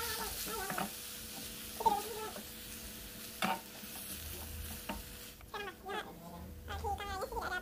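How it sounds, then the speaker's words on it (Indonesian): Grated tofu mixture being stirred in a frying pan, a gentle sizzle under repeated scraping strokes of a spatula, close by, with scattered faint voice-like sounds and busier scraping toward the end. "Aduk sebentar."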